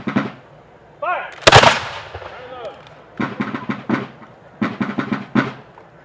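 Musket volleys fired on command at an Old Home Day historical reenactment in Dracut, several sharp loud cracks with clusters of rapid shots, between shouted commands.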